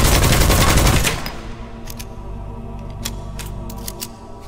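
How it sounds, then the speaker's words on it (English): Weapon fire in the video game Witchfire: a dense, loud burst of rapid shots fills the first second, then sharp isolated cracks ring out at intervals over a low, steady game rumble. "Now I'll show you guys just how to shoot."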